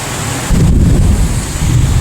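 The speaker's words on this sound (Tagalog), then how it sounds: "grabe kumukulog kumikidlat pa guys" A deep, rolling rumble of thunder swells in after a brief quieter moment, sitting under steady outdoor wind-like noise during a heavy rainstorm with lightning in Bangued, Abra, with no one speaking.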